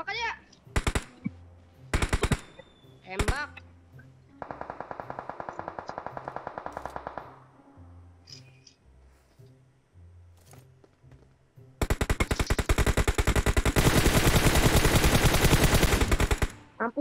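Video game gunfire comes in bursts: a few sharp single shots, then a sustained stretch of rapid automatic fire, a pause, and a final long, loud barrage of machine-gun fire, with players talking between the bursts.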